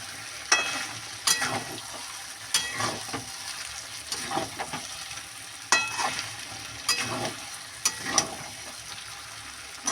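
Hot water poured into a pan of sautéed marinated duck meat, with a loud sizzling hiss and recurring sharp bursts of stirring and scraping across the pan, no voices.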